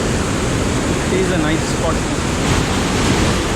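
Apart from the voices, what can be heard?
Rhine Falls waterfall rushing water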